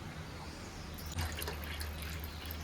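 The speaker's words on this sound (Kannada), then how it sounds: "ಕುದಿ ಬರ್ತಾ ಇದೆ." A pot of herbal decoction with pepper, ginger and garlic bubbling on the boil, giving a steady wet simmering hiss with small popping bursts that grow a little livelier partway through, close and moderately loud, with no one speaking.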